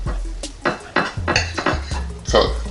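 A knife slices through a thick, tender flat of beef brisket that was slow-cooked for 12 hours in a NuWave oven. Several short, soft cutting and scraping strokes come close by, unevenly spaced, along with light clinks on a board or plate.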